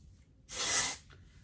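A single hissing burst of Bumble and Bumble Dry Spun aerosol hair spray lasts about half a second, close and fairly loud, followed by a brief faint second puff.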